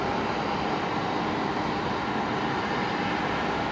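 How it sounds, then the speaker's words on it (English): Airport people-mover train at Brisbane Airport pulling away, a steady broadband rumble and hiss filling the whole clip at moderate loudness, with no voices over it. "the air train departure at the same time"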